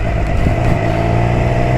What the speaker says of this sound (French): j'ai l'impression que le moteur il est en galère